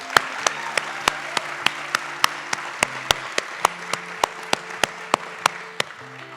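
The crowd at the 2023 Youth of the Year event applauds the eight finalists, many hands clapping with a regular beat of crisp accented claps above soft sustained music before easing off near the end.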